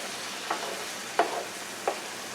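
Ground meat for stuffed bell peppers sizzles steadily in a pan while a spoon scrapes and stirs it three times, each stir a soft, close clack over the constant frying hiss.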